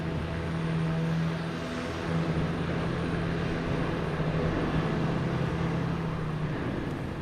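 A small propeller airplane at Boston Logan Airport runs loud and steady, its engine drone holding a sustained low tone with broadband roar throughout.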